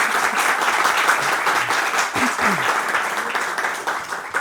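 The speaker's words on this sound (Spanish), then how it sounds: "Un aplauso para ella." An audience at a mystery-themed conference claps steadily for a speaker, with dense, even applause filling the room and a few voices faintly underneath.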